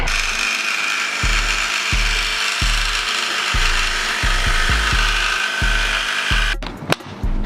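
Hardwood trunk panel for a G37 being trimmed to fit, with a steady hiss of cutting and a series of repeated low thumps or knocks through the clip, ending in a brief sharp clatter.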